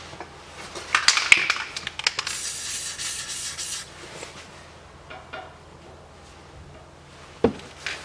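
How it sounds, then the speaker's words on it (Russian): Lubricant sprays onto front suspension bolts of a 2012 SsangYong Actyon 2.0 4WD during a bushing and strut replacement. A hissing spray burst lasts about a second and a half, preceded and followed by close scraping and rubbing handling noises. "Болты тоже смазываю."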